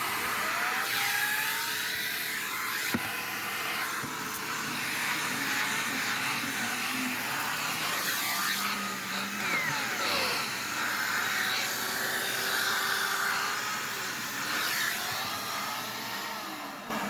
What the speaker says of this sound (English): I'll get the vacuum set up here.